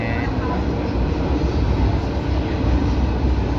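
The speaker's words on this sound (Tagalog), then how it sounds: "Sa underground ng tren, ganda." Steady low rumble of an underground metro train in motion, a dense continuous roar filling the space without pause.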